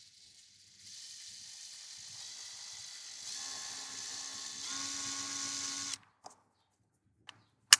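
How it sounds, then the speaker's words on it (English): A small power drill bores into a model battleship hull coated in Flex Seal, a faint high whine that steadily rises in pitch over about five seconds before stopping, followed by a few sharp clicks. "You go ahead and just drill."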